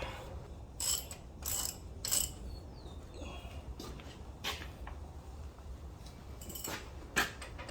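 Metal wrench clicks and ratcheting on a Ford F150's caliper bracket bolts during a brake job, coming in several short bursts with pauses between them, close by and moderately loud, with no talking.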